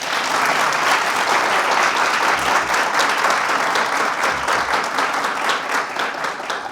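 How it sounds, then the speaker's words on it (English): Dense, steady audience applause, loud and sustained, a full room clapping evenly throughout with no pauses and no voices standing out. "I think that deserves a big round of applause."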